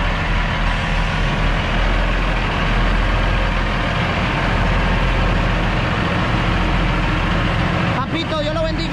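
Steady, heavy truck engine idling close by, a constant low rumble that runs through the whole stretch before a brief change near the end, with a voice talking over it.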